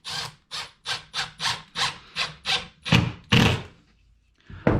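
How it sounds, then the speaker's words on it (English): A screw is driven into wood without pre-drilling, making a series of about ten close, rhythmic rasping, squeaking grinds. The strokes lengthen and grow louder near the end, then a pause, then one final squeal. "let's try and drive this screw without pre-drilling"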